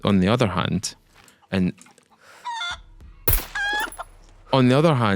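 Chicken clucking in the survival game SCUM, a few short bursts of squawks and clucks between game effects, with someone talking loudly at the start and end.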